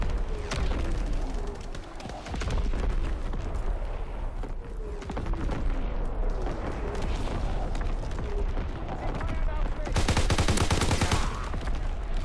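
Artillery barrage in the Call of Duty WW2 video game: loud, dense, continuous rolling booms and crackling detonations for about twelve seconds, swelling into an especially heavy burst near the end.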